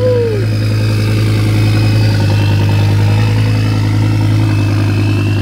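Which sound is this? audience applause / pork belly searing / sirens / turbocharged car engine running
turbocharged car engine running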